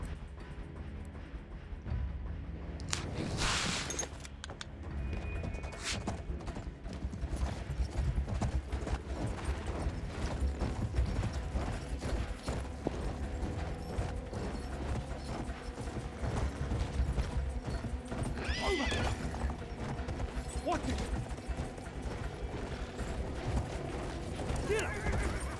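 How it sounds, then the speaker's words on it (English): Horse hooves clip-clopping at a gallop with an occasional neigh in the video game Battlefield 1, steady and fairly faint under game mechanisms and battle noise throughout. "hop on the horse"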